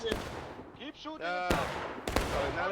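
Musket gunfire in the Civil War video game War of Rights, with several sharp reports cracking out near and far amid battle noise while voices talk over the fighting.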